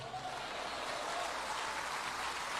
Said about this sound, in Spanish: Dele ese aplauso con gozo.